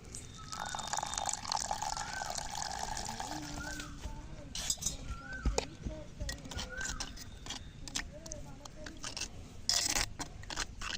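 Water trickles and splashes as it is poured into a chicken masala mix of chilli powder and coriander, a soft continuous liquid sound under some faint background voices and small kitchen clatter.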